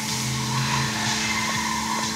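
Tires squeal as a car skids in Need for Speed on a PlayStation 3, the game played through the DVD system of a Chevrolet S10, with a steady engine drone under a continuous screech.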